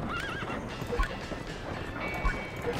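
A horse whinnies in The Escapists 2 prison video game, a short rising neigh near the start followed by hoof clip-clops and faint game effects.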